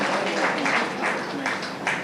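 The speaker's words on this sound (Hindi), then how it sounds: "सभी की तरफ से जोरदार तालियों के साथ इस बच्चे का हौसला अफजाई करें" Steady applause from an audience encouraging a student at a stage event at GTB Hospital, a dense wash of clapping heard at moderate distance, with faint voices mixed in.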